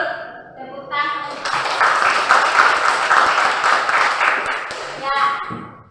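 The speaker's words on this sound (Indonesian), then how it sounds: "Tepuk tangan." A classroom of students bursts into hand clapping after a brief voice, the dense applause swelling quickly, holding for several seconds and tapering off as a voice returns.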